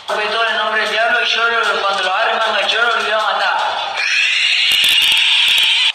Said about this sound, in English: he gives a strange, otherworldly shriek like a velociraptor